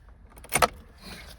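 Car keys jingle briefly in a short metallic burst near the middle, close and fairly loud, with quiet room sound around it, just before a turbo-swapped 302 Mustang GT45 is switched on.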